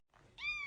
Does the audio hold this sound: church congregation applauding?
no